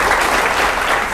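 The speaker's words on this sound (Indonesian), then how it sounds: "Oke, tepuk tangan." Audience applause at a talk event with an army chief of staff, a dense, steady wash of many hands clapping close and loud with no voices on top.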